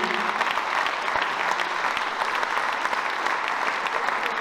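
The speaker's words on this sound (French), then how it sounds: "on applaudit très fort le grand Robert Benevanti" Steady, dense applause from an audience at a French speech and prize-giving ceremony, loud and sustained throughout with no voice over it.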